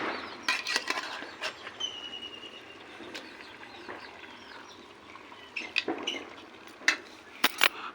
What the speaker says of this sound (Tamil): நல்லா கிண்டி விடணும் ஃப்ரெண்ட்ஸ்